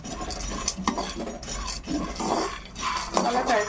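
Multigrain health-mix grains dry roasted in a pan, with a spoon scraping and stirring in repeated rough strokes, gritty rustling close by with a few metallic clinks.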